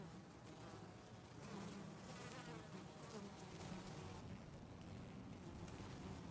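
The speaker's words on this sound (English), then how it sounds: "The whole scouting party lets the swarm know the good news by rushing through with vibrating wings and what's known as a buzz run." A honeybee swarm buzzes with vibrating wings, a soft, steady droning hum that carries on without a break, fairly faint and heard with no voices.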